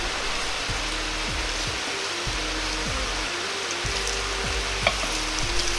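Pork and bean sprouts fry in a frying pan with a steady, close broadband sizzle, punctuated by faint low scraping pulses from stirring, with no voices.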